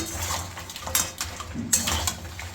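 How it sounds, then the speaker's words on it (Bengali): Fried sea crabs are stirred into spice paste in a pan, with a few clattering scrapes and knocks of a utensil against metal over a soft background hiss. "এবার ভেজে রাখা কাঁকড়াগুলো মশলার সাথে দিয়ে খুব ভালো করে আপনাদের মিশিয়ে নিতে হবে।"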